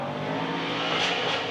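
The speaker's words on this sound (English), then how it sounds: "That exhaust note just continuing through, echoing through this Orlando Speed World course." A drift car's exhaust note roars steadily through the Orlando Speed World course, a loud, sustained engine drone with a slight rise in pitch, echoing off the surroundings.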